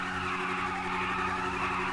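KTM 390 motorbike in GTA 5 skidding as it spins a wheelie in circles: a steady, loud tire screech with a constant engine drone, continuous for the whole two seconds with no talk.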